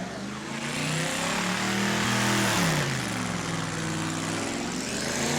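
A loud car engine roars steadily during a burnout contest, with rising and falling revs, a continuous throaty drone that swells midway, no voices.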